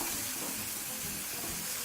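Vegetables frying in a pan with very little oil, a steady broadband sizzle that stays loud and even throughout, with no talking.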